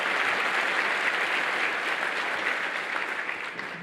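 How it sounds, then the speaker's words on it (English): An audience gives a sustained round of applause for Dr. Johnson at an educational panel event at Roswell Park, dense even clapping from many hands filling the room for nearly four seconds and tapering slightly at the end. "Let's give Dr. Johnson a round of applause."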